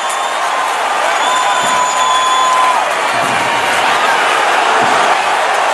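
Loud, steady roar of a basketball arena crowd cheering after a block in a Rockets versus Spurs NBA game, a continuous dense wash of voices with a broadcast tone line running beneath.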